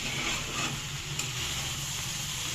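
Jeera rice being stirred and mixed in a hot pan, a steady soft scraping and sizzling texture that runs continuously and close up, with no talking.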